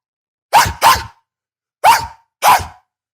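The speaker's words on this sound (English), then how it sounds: "Why are you barking at me?" Four sharp, loud barks from a nearby dog come as two quick pairs, the first pair close together and the second spaced further apart, with silence between them and no talking.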